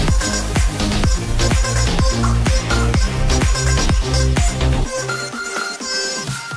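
Mastered electronic track plays loud and full, a steady pounding kick and bass pattern under bright synths, with the low end dropping out near the end for a brief breakdown.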